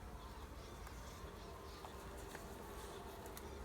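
Honeybees buzz in a dense, steady hum during a hive inspection with brood frames open, loud and continuous close by, with no speech.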